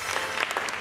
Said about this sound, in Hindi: तालियां खलील साहब के लिए